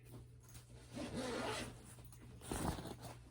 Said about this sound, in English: I think this is the extra zipper